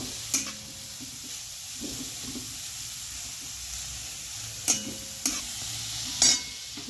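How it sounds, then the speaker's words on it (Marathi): Beetroot and carrot mixture sautéing in a pan, a soft steady sizzle with occasional scraping stirs and a few sharp clicks of a spoon against the pan. "हे बघा, छानपैकी परतूया"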